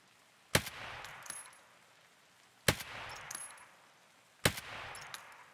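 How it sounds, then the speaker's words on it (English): Three sharp, loud gunshots in the shooter Escape From Tarkov, spaced about two seconds apart, each cracking hard and then trailing off into a short echoing tail against quiet background noise. "My shot's loud right there."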